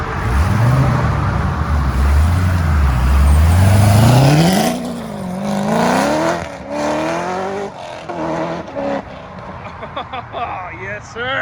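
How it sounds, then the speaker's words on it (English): Two Chevrolet Corvette C6 ZR1s and a Gen 5 Dodge Viper pull away close by with loud engine revs rising and falling, then fade and pass as people talk over them. "2 C6 ZR1s and a Gen 5 Viper rolling out."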